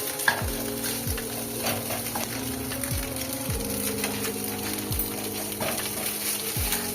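Egg being scrambled and fried in a hot pan of oil, a continuous sizzle with repeated scraping strokes of a spatula about once a second.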